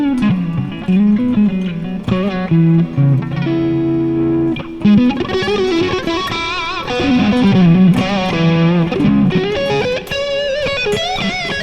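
Electric guitar played through the pickups of a PRS SE NF3, clean but colored by effects and light distortion, sustained chords and picked notes ringing continuously and loud with no talking.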